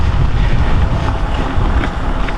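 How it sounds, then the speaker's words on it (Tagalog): Strong wind buffets the microphone with a steady, loud roar throughout, on an open road during an after-work bicycle ride. "Grabe, ang lakas ng hangin ngayon."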